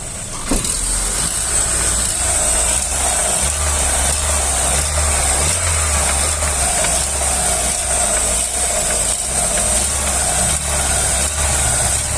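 A 2009 Opel Astra engine idles close up, a steady mechanical drone with a faint rhythmic ticking noise running through it, alone and continuous.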